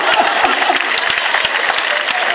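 Loud audience applause at an outdoor folk festival in Ittiri, Sardinia, a steady dense roar of many hands clapping close and continuous throughout, with a faint voice underneath.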